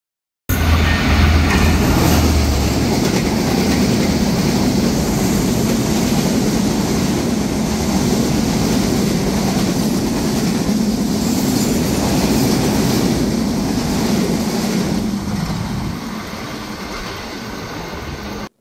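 The Chilahati Express intercity train in Bangladesh rumbles steadily along the rails, loud and close, with a constant roar and faint rhythmic clatter that fades slightly toward the end.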